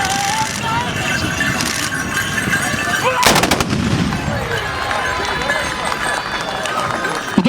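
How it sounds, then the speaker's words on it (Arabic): A tbourida volley at a festival in Rabat: horse riders fire their muskets together in one sharp, loud crack amid crowd noise and a commentator talking throughout. "كانت هذه طلقة لسربة المقدم."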